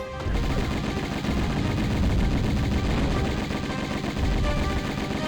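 Sustained Uzi fire from the Tomb Raider 1 Remastered game during a fight with Natla at the Great Pyramid, a dense continuous rattle of rapid shots at steady loudness through the whole stretch.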